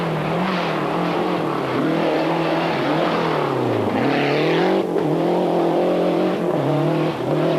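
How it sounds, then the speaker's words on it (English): A Renault rally car engine races at full pace, its steady high drone rising and falling through gear changes as it passes, loud and continuous with no commentary over it. "And the Renault sounding just as sweet as ever."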